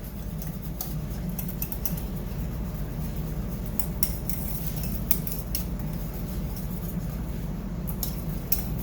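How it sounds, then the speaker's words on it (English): A wire whisk steadily stirs sour cream into warm Swedish meatball sauce in a pan, making a continuous soft swishing with frequent light metallic clicks and taps against the pan, close and moderately loud, with no talking. "we'll whisk the sour cream in and get it nicely incorporated"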